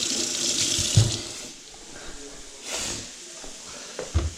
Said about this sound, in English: So I'm just going to give these a little rinse.